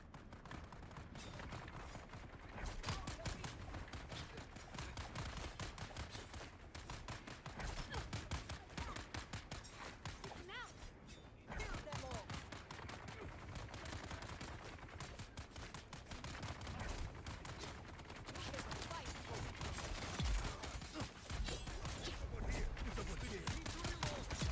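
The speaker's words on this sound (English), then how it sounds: "The gunfire I'm hearing does not sound like a player." Rapid gunfire crackles in the video game Dune Awakening as sustained, dense bursts of shots. It is quiet and somewhat distant and continues almost without pause.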